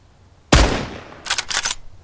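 Gunfire in the survival game Mist Survival: one loud, close shot with a trailing echo, then a quick burst of about three sharp shots.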